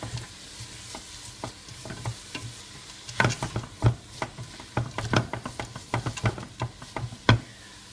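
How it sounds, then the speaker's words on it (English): Soft, low sizzle of onions frying in oil, punctuated by scattered clicks and taps of a utensil stirring in a pan, growing busier midway. "As you can hear, it's not sizzling as much."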